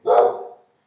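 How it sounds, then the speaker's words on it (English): A single excited dog bark rings out close by, one sharp burst lasting about half a second, set off by pedestrians passing on the sidewalk outside. "Dog again. She's enthusiastic about the pedestrians out on the sidewalk."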